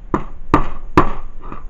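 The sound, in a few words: hammer striking a Nerf Maverick cap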